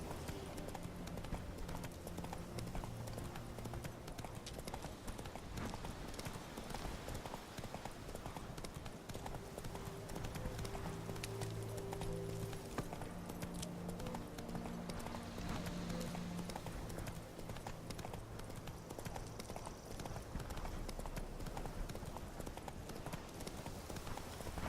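Steady clip-clop of horse hooves galloping along a path in The Witcher 3, continuous and rhythmic beneath a dense bed of synthetic game ambience and music.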